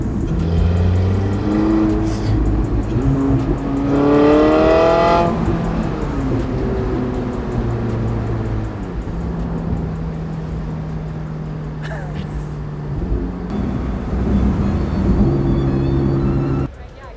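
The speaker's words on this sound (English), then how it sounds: "Roof off, it's a completely different car. You get way more exhaust note, way more intake sound." A Porsche 918 Spyder hypercar driven with the roof off, its exhaust and intake loud and close as the engine revs up and down, one rising surge in the middle, with no talk over it.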